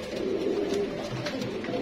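A male pigeon coos close by in low, rolling, continuous tones with soft background noise.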